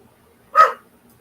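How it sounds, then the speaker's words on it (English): A single short, sharp puppy bark, close and clear, in an otherwise quiet space. "You hear the puppy dog."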